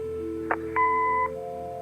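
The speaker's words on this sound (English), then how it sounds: "Leave a message after the beep." An answering machine in the video game Kathy Rain gives a short electronic chirp, then a clean, steady beep lasting about half a second over a faint background hum.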